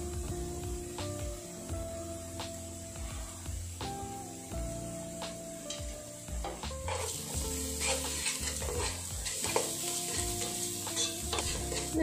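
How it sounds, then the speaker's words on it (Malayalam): Onions with salt are sautéing and being stirred in a pan for rava balls. A continuous sizzle and frequent spatula scrapes play close up over quiet background music. "ഉള്ളി ഒന്ന് വഴറ്റി വരട്ടെ."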